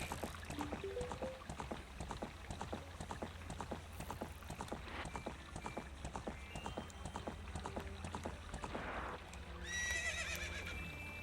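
A horse in Ocarina of Time gallops with rapid rhythmic clip-clop hoofbeats and sounds a neigh or two. A louder burst of game sound closes the sequence.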